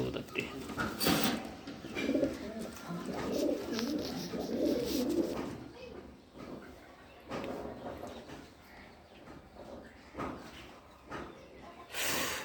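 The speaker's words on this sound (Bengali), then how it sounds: "এখানে একটা বড় পায়রা আছে" Low, throaty cooing of a large male Madrasi pigeon repeats through steady background hiss, fairly close and moderately loud.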